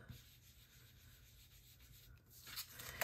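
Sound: rubbing ink along the edge of cardstock

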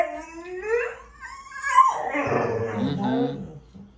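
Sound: pit bull dog whimpering

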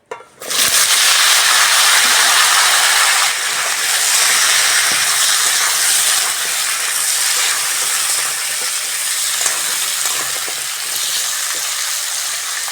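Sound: pumpkin frying in oil with dried red chili

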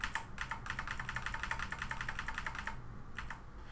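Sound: pressing keys on a computer keyboard

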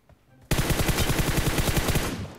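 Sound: gunfire spraying at an enemy in the video game PUBG Mobile

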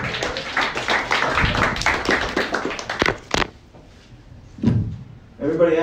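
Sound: comedy club audience clapping

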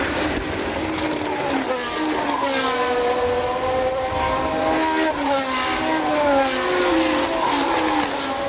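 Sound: Formula One race cars, 1977 Canadian Grand Prix

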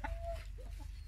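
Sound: chickens clucking

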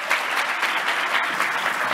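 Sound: audience applause

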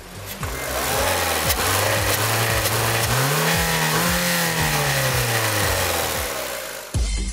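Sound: petrol car engine revving

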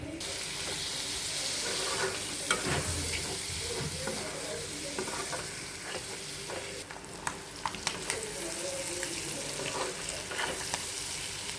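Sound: ingredients being stirred and frying in a pan

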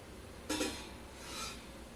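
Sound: slotted spoon stirring shankarpale frying in oil

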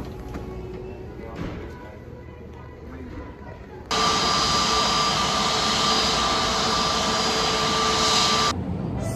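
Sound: airport ambience with jet engine noise

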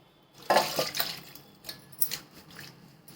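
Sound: radish leaves put to soak in water

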